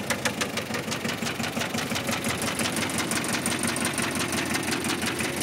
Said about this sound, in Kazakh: Бир свечасы иштебей атат дейт. Ошого такырап атат тугандар.